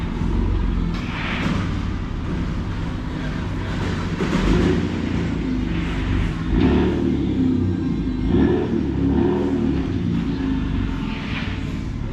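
A pickup truck engine, a lifted Ford F-150 with a MagnaFlow high-flow catalytic converter, rumbles steadily with a low, throaty exhaust drone, swelling slightly as it revs; no voices are heard.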